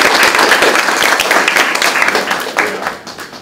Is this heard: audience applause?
yes